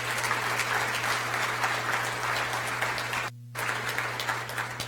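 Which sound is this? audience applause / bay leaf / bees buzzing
audience applause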